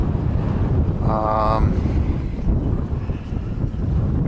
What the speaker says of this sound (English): Oh, now the winds are really increasing here.